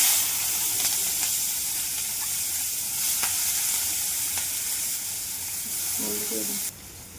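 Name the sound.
onion and cumin frying in oil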